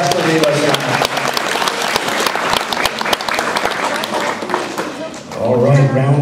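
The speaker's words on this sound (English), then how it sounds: "Let's give a warm round of applause to Dave Dane and Rasmus Rivas." A crowd applauds spelling bee contestants, a brisk dense patter of clapping with some thumps, and voices come up over it near the end.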